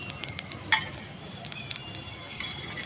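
Hot oil in a pan sizzles steadily before spices go in for a Bengali rice dish. A soft continuous hiss runs throughout, with occasional sharp crackles and pops.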